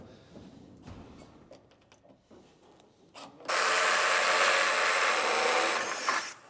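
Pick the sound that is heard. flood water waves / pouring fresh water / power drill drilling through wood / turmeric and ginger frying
power drill drilling through wood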